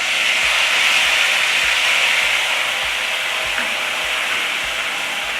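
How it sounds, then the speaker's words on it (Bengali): Mustard paste hits hot oil with nigella seeds in a pan, giving a loud, steady, close-up sizzling hiss that holds evenly throughout with faint low thumps beneath. "তেল গরম হয়ে গেছে, এবার কালো জিরে দিয়ে দিলাম। এবার সর্ষে বাটাটা দিয়ে দিচ্ছি।"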